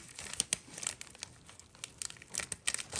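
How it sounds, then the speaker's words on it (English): A Valentine-themed bubble mailer envelope is torn open, with crinkling and sharp tearing bursts coming close and fairly loud in uneven rhythm. Nobody speaks. "I mean, let's just open it up."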